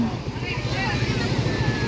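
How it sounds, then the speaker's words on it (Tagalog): Big sea waves pound against a small boat under heavy wind noise, a rough continuous roar with low rumbling surges and an engine-like drone beneath, close and loud. "Lalaki na alon."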